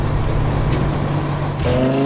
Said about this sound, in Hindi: शांत वादियों में इंजन की गूंज सुनाई देती है